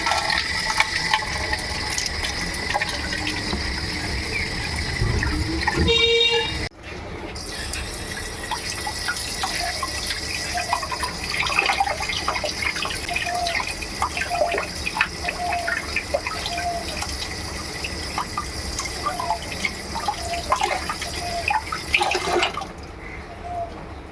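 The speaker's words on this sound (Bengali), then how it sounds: "মাছটাকে আবারও ভালোভাবে জলে ধুয়ে নিচ্ছি" Water runs steadily from a tap while a live snakehead fish is washed, a continuous gushing splash with a brief break near the start and small clinks of handling, no voices.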